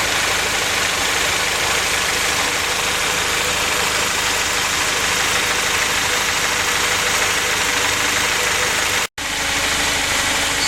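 A Honda Prelude engine idles steadily and loudly with a constant rumble during ignition timing adjustment, then cuts out abruptly for a moment near the end before resuming.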